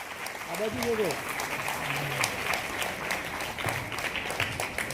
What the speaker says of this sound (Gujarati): થઈ રહ્યો છે ત્યારે તાળીઓ ઘટવી ન જોઈએ